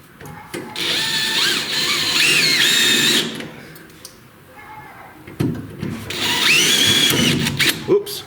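A power drill working on a hitch installation for a 1973–1997 Ford F Series or Bronco whines loudly and close in two long bursts separated by a short pause, with tool clatter around them.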